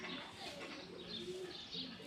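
Pigeons coo softly in a short low burst, close by, as a pair kept by a village pigeon keeper is released.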